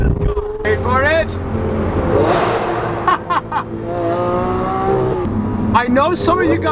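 A 2012 Lamborghini Aventador with a 6.5-liter V12 and 700 horsepower revs and accelerates loudly up close, its engine rising and falling in repeated sweeping pitch climbs, with gear changes, and an excited voice breaking in over it.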